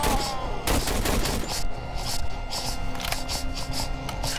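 Gunfire in the horror video game Cry of Fear crackles as a rapid, dense string of shots over several seconds, loud and continuous.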